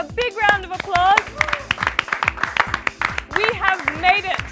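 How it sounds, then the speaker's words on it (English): Applause and cheering from a small group celebrating the fifth lesson of a salsa dance course: quick, irregular claps and bursts of excited voices, fairly close and loud throughout. "A big round of applause"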